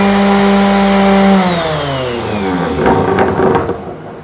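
Random orbital sander cutting through plywood veneer, loud motor hum that drops in pitch as the pad loads up, then turns into rough, gritty scraping before fading out.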